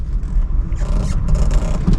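Car idling with the clutch fully pressed and the brake held, a steady low engine rumble close by with a brief scraping rustle partway through.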